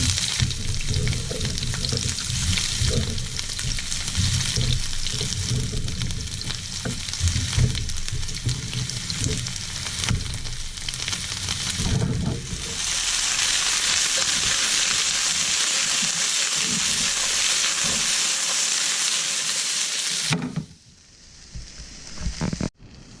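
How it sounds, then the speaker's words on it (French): Bell peppers sautéing in hot oil for a piperade, a loud continuous sizzle close up with stirring scrapes, fading to near quiet in the last few seconds. "vous mettez vos poivrons à revenir une fois que l'huile est chaude"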